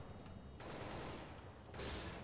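Bursts of rapid gunfire in a tactical shooter video game, with dense, steady automatic fire that cuts in, pauses briefly, then resumes, loud and close.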